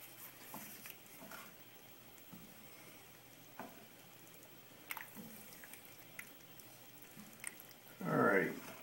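A spoon stirs turkey chili in a pot, with quiet, intermittent scraping and wet squishing clicks at a close distance, followed by a louder clatter near the end.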